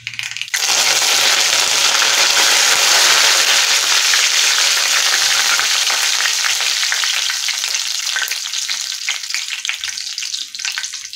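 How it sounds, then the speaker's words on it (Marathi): Cumin seeds and curry leaves hit hot oil in a pan for a Maharashtrian amti, erupting into a loud, close, continuous crackling sizzle that stays strong and slowly eases off toward the end. "यानंतर आपल्याला याच्यामध्ये 10 ते 12 कढीपत्त्याची पाने ॲड करायची आहेत."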